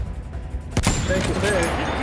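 A sharp anti-tank gun blast in Battlefield 1, a single loud close shot followed by a rumbling tail and layered battle noise.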